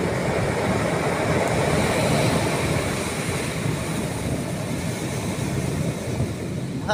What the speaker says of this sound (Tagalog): Taas ng alon.